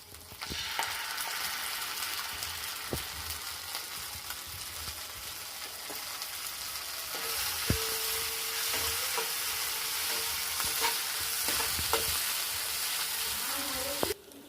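Cashews and raisins are fried in a cooked-down spice paste for Bengali doi katla, giving a steady bright sizzle with occasional stirring knocks throughout.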